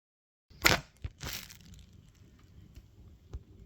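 Headlights for a classic Mini being unwrapped from box packaging, giving a few close, sharp crinkling and tearing bursts of paper or plastic followed by softer rustling handling.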